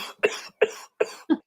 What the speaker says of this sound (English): Cough it up. Cough it up.